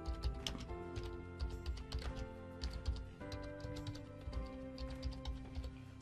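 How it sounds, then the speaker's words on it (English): Fingers type on a computer keyboard while entering text into presentation slides, producing a quick, uneven run of light clicks and taps up close over a soft tonal background. "So again, I can type in something like"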